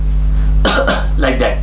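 A person gives a few harsh, close coughs, imitating a patient who coughs in public meetings, and then speaks briefly over a steady low hum.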